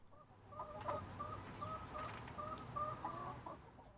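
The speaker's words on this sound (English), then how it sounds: "This friendly hen even comes to pay me a visit." A friendly hen clucks nearby in a series of soft, short bursts over several seconds, with quiet outdoor background and no talking.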